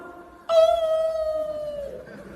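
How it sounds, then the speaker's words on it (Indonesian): A dog howls in one sustained, wavering tone that starts abruptly, holds for about a second and a half, then slowly sags and fades, heard close up with no voices over it. "Kenapa kalau azan berkumandang suara anjing melolong?"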